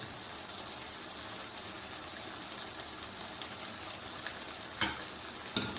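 Chicken karahi sizzles in the pan as it is stirred with whole green chillies, dried fenugreek and chopped coriander, a steady close frying hiss with a couple of brief spoon clinks near the end.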